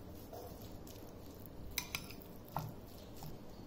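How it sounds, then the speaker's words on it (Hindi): Guacamole being mixed with lemon juice in a bowl: quiet soft stirring and squishing with a few faint clinks of a utensil against the bowl, close and low in level. "इसको अच्छे से मिक्स करेंगे।"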